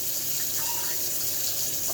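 Warm water gushes steadily from a tap into an instrument bucket, a constant hiss and splash close by with no voices.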